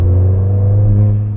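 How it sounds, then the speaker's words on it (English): A Ford Fiesta ST fitted with a Milltek exhaust in loud mode, driven at night, gives a loud, deep, steady engine rumble and drone heard from inside the car. "Oh, that exhaust is so much better. It's really got a grumble now."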